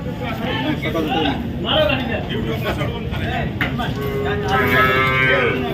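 Loud, drawn-out buffalo moos sound close by amid a farmyard din at a buffalo market in Dhule, Maharashtra, with people talking over and between the calls.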